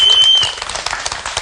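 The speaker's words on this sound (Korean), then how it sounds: "자, 박수 한번 주시죠." Brief audience applause in a church setting, a scattered patter of clapping that begins strong and quickly thins out over about a second.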